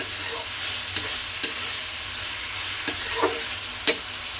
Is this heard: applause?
no